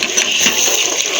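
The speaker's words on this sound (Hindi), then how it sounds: "अब हम इसमें थोड़ा सा और पानी डालेंगे" Water is poured into melted sugar in a pan while cooking flax seed laddu, a short, loud hissing gush close by.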